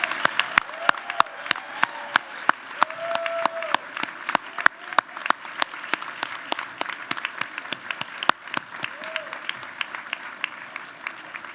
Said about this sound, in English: Let's have one more round of applause for the graduate class of 2020